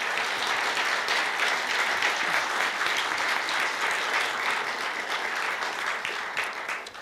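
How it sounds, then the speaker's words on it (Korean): An audience at a Korea University honorary doctorate ceremony claps loudly and continuously, a dense sustained round of applause that holds steady before tapering slightly at the end. "박수 한번 부탁드립니다"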